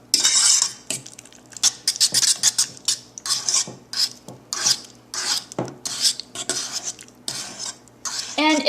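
Gluten-free banana bread batter being mixed and mashed in a bowl, a loud, busy run of scraping, clinking utensil strokes and squelchy mashing in quick irregular bursts, close up with no talking.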